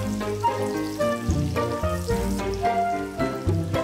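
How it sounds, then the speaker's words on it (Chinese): Chopped scallion segments fry in hot oil with ginger and garlic, making a continuous close crackling sizzle under pitched, tonal background sounds. "我们放入这个切好的葱段，继续给它炸香啊"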